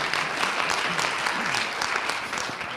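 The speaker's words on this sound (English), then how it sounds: "Yes, that's worthy of applause." Steady applause from a crowd, dense and continuous throughout, with a faint voice or two underneath.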